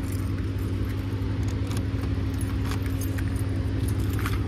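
Keys jangle steadily beside a car, a bright metallic rattle running throughout over a low idling engine hum.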